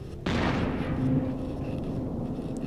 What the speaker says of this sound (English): the first big hit from the Dreadnought